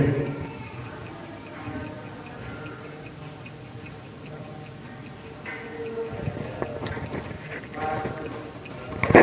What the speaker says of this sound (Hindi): एक तो मैंने ये घड़ी की जो है आवाज सुनाई